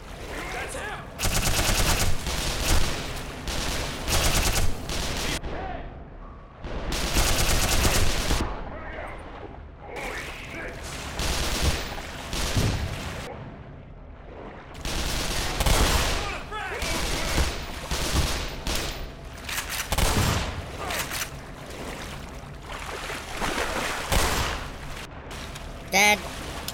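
Automated turret gunfire in Black Mesa, the Half-Life remake, bursts out in loud, rapid fusillades separated by short gaps over about half a minute, with people talking intermittently between and under the shots.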